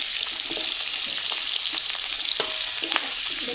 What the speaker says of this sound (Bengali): তেলও গরম হয়ে গেছে, কেটে রাখা আলু আমি দিয়ে দেবো